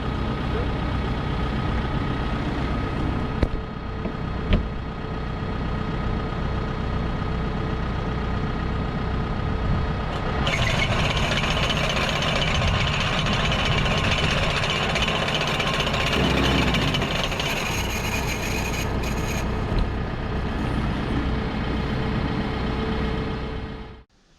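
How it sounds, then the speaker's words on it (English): A heavy diesel tractor engine runs steadily at idle, then climbs to a louder, higher revving pitch midway before settling again, close and continuous throughout. "Started on idle, revving up."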